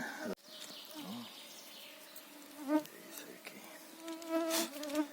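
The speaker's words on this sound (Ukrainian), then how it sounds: "Ех ті комарі задовбали, що ви лізете?" Mosquitoes buzzing around a person in a forest during mushroom picking, thin whining tones coming and going close by, with faint bird calls and a few soft rustles in the background.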